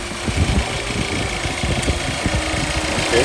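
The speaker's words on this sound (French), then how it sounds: "On sent que le moteur il respire, il ne chauffe pas assez." A Hyundai four-cylinder GDI engine runs at idle, a close, steady mechanical hum with a fine rapid pulsing and light vibration, no talking over it.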